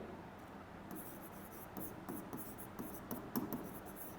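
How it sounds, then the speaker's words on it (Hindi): Chalk or marker writing on a board during a maths lecture on quadratic equations, faint irregular scratchy strokes in short bursts in a quiet room. "तो यहाँ पे हम लिखेंगे"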